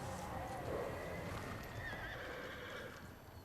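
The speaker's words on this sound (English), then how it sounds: "And Massey, you can ride a horse in it." A horse whinnies over the steady clip-clop of hooves, with a faint game-like ambience behind it and no talking.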